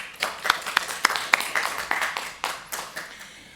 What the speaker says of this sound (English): Let's give a round of applause to the Mozilla Tech speakers.